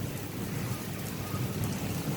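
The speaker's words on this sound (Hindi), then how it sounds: "अरे तेज होगी बारिश।" Heavy rain pours down during a strong thunderstorm, a steady, dense hiss of falling water with a low rumbling undertone, continuous and fairly close throughout.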